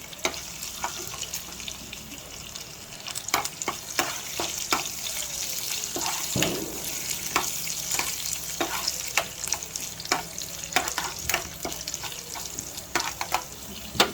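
Cashews and raisins frying in oil in a pan, a steady crackling sizzle with frequent sharp pops and spatters, close up and without talk.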